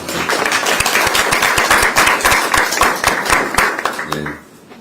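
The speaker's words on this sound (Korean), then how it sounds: "문대리 의원에게도 큰 박수를 부탁드립니다." Loud, dense audience clapping at a political campaign gathering that continues steadily and then fades out near the end.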